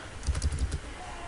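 Keys tapped on a computer keyboard while router configuration commands for RIP are entered, a short run of about five close, quiet clicks and then still room tone.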